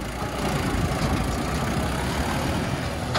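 Tractor engine left idling after being started, a steady low, dense rumble that stays close and even throughout, with no talk.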